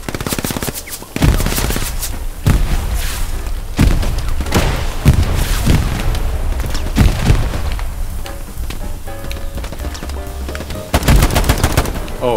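A grenade blast and rapid, loud gunfire with repeated heavy thuds and bursts, dense and continuous, in the video game Hell Let Loose.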